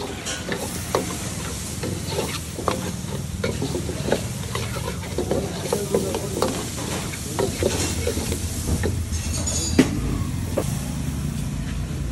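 Masala chicken gravy sizzling in a pan at a Thoothukudi military hotel kitchen, with steady hissing frying and repeated scraping stirring strokes continuing throughout at close range.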